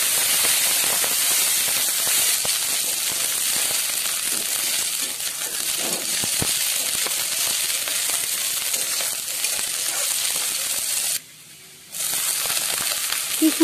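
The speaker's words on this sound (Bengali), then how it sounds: "এরপর এর মধ্যে পেঁয়াজ, আদা কুচি ও কাঁচা লঙ্কা দিয়ে দেব। এগুলো দিয়ে আরও 1 মিনিট ভেজে" Onion, ginger and green chilli frying in a pan for chirer polao, a steady close sizzle and hiss that runs throughout, with one brief pause near the end before it resumes.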